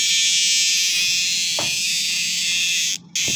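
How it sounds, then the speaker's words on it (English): A dog day cicada buzzing loudly at close range, a dense continuous high-pitched drone that fills the whole stretch and cuts out abruptly for a moment near the end before resuming. "He's probably my loudest cicada ever."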